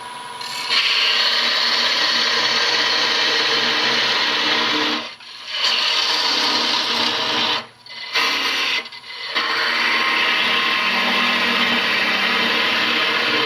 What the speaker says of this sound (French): Il ne reste plus qu'à couper le verre.